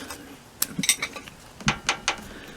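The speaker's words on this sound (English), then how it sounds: "then I tighten the nut here, hold the screwdriver straight, tighten up the nut" Wrench tightening a valve adjuster nut on a VW Type 1 air-cooled engine, several short metallic ratcheting clicks in two bursts, close and fairly crisp, with no talk.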